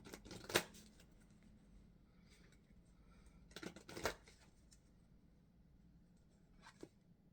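Angel cards shuffled and picked by hand in a quiet room, with three short bursts of riffling card noise separated by near silence.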